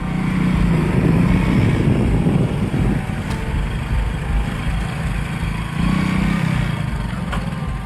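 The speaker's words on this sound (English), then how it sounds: "The footage shows several motorbikes approaching this mysterious figure." Engines rumble steadily at a moderate distance at night, the drone of several motorbikes swelling slightly as they draw nearer.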